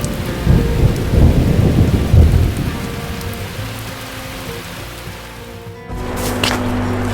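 A thunderstorm in Slovakia's High Tatra mountains, with heavy rain hissing steadily and thunder rumbling low and loud, easing slightly before a fresh surge near the end.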